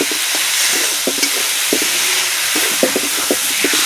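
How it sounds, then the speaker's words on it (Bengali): Loud, constant sizzling fills the pan while a spatula scrapes and stirs the potatoes and spice paste in short, irregular strokes. "এখন আলুর সঙ্গে মশলাটা একটু কষিয়ে নেব"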